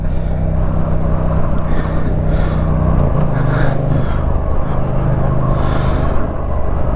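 A Yamaha MT-07 motorcycle rides through town traffic in Nampa, its engine a loud, continuous low drone mixed with wind buffeting, close up and without talk.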